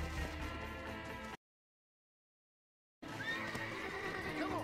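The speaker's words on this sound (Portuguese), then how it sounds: "Ô seu cavalo maldito do inferno." A horse in the video game Red Dead Redemption whinnies and snorts amid hoofbeats and game noise, with a stretch of dead silence in the middle before the sound resumes, loud and close.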